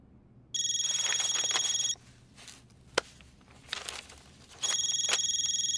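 A phone rings in two electronic bursts separated by a short gap with faint background noise and a small click.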